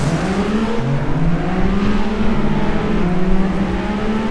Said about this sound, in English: I love that muscle car. Looks like an old Charger.